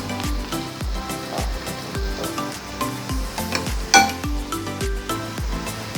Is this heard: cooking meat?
yes